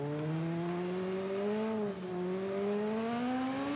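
A racing motorcycle engine in the TT Isle of Man road-racing video game, a loud steady whine that rises in pitch, dips briefly around a gear change, then climbs again.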